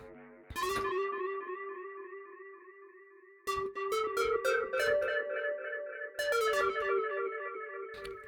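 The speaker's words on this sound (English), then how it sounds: "this is a JS delay that came bundled with Reaper." A bright synth plays sustained notes and short stabs through a JS delay plugin bundled with Reaper, each one trailing off in repeating echoes that ring on after the notes stop.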